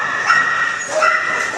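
Several dogs bark and yip in a small-dog and puppy room at an animal shelter, sharp high barks and whimpers overlapping close by in a reverberant room.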